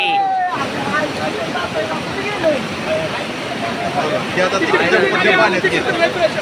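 Floodwater rushes at the Goregaon Ambavade bridge, a loud, continuous broadband roar filling the scene while people shout and talk over it.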